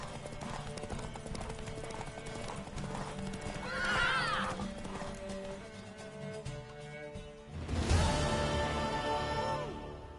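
A horse whinnies loudly twice in The Witcher 3, with clip-clopping hooves and a steady musical backdrop throughout.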